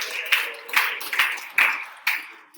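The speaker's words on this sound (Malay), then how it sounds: "Berikan tepukan gemuruh kepada mereka" Applause at an Arduino ESP32 infrared sensor IoT workshop as a successful group is congratulated, with bursts of clapping from a small crowd coming in uneven waves, fairly close and moderately loud.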